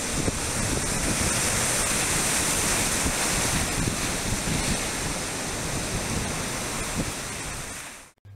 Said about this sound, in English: a brief look at the play between waves and the sand beach at Neys Provincial Park